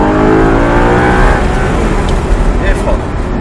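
An Audi R8 on a racetrack at full throttle, its engine roaring loud and close as revs climb steadily through the gear, with an instructor speaking over the noise.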